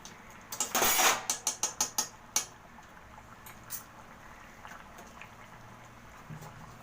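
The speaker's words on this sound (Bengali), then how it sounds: "এক স্পুন ঘি মিশিয়ে দেবো" A spoon clatters sharply against a pan several times in quick succession while ghee is mixed into ginger rohu fish curry, then a few lighter taps fade out over a soft background simmer.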